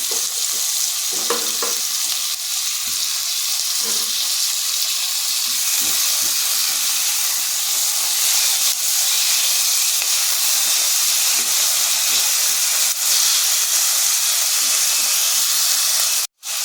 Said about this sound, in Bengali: এবার আমি টমেটোটাও দিয়ে দিচ্ছি।